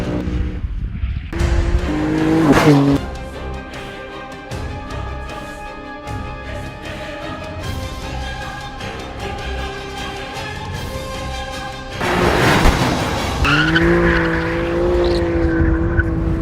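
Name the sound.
BMW M4 or Audi RS5 drifting on track, tires squealing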